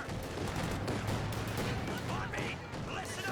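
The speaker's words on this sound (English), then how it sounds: "That artillery barrage completely drained PAX AJAX of munitions." Artillery shells and gunfire in Company of Heroes 2 rumble in a dense, continuous barrage of booms and rattling shots, with a commentator's voice running over the din.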